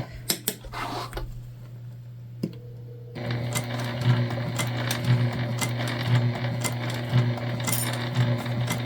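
A sewing machine bastes the seams of a Zora shoulder bag. A few clicks and a pause come first, then a loud steady motor hum with fast stitching and a rhythmic thump about once a second.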